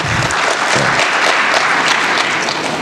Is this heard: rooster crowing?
no